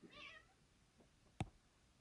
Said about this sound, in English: The cats are fighting. That's what you hear.